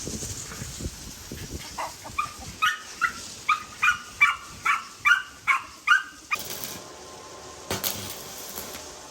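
A dog barks about ten times in a steady, evenly spaced run, moderately distant over a quiet background, then falls silent.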